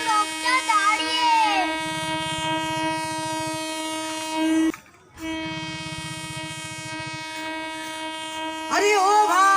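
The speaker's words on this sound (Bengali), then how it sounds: "ট্রেন আসছে, ওই লোকটা দাঁড়িয়ে।" A train horn on a railway line blasts in two long, loud, steady sustained tones separated by a brief gap, with the rumble of the approaching train beneath.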